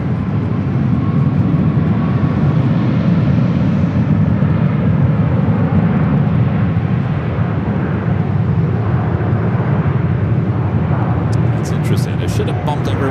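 United Boeing 777 jet bound for Dulles at LAX, a broad sustained engine roar that holds steady and loud throughout, slightly swelling midway, heard alone without voices.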